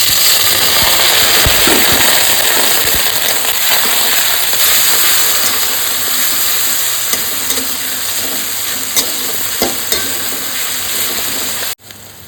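Garlic and onion sizzling and frying loudly in a hot pan as water is added for a fish curry, a steady dense crackle with stirring scrapes and a few clicks, ending abruptly.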